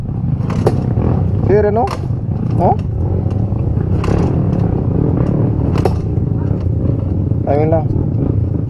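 A two-stroke Kawasaki KMX enduro motorcycle idles with a steady, loud, close engine drone throughout, while people talk over it.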